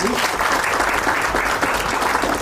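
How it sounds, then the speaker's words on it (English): An audience claps in sustained, dense applause at a 15th anniversary celebration for the QuicSolv organization, loud and close, with a voice faintly over it. "Big round of applause for"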